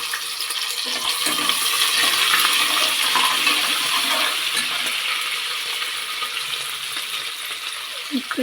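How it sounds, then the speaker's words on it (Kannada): Mustard seeds dropped into hot oil for tempering a vegetable pulao, crackling and sizzling steadily with fine rapid pops spread across the whole stretch, moderately close. "ಸಾಸಿವೆ ಹಾಕೋತಾ ಇದ್ದೀನಿ"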